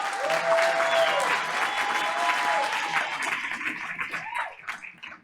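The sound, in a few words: applause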